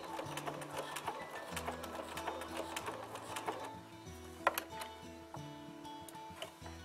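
A sewing machine stitches English paper piecing, its motor whirring and needle ticking in short runs with brief stops, close and steady.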